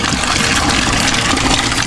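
Water runs at a small backyard farm's pump-fed water source, a loud, constant close-up rush of flowing, splashing water throughout.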